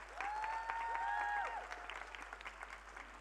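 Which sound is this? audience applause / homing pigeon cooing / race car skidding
audience applause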